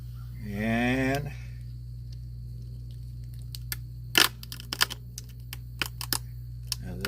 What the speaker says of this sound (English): we're going to crack a nut